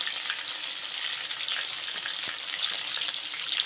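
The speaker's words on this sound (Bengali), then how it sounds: "এইভাবে একটু বাড়িয়ে ভেজে নিতে হবে" A tilapia fish frying in oil for a tandoori preparation, a steady bright sizzle with fine crackles close to the pan, continuous throughout, no talking.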